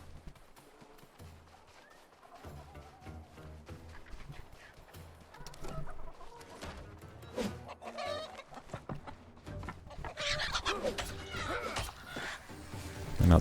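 Chickens cluck and squawk in the RuneScape: Dragonwilds game, scattered calls that grow busier and louder toward the end amid game footsteps and ambience.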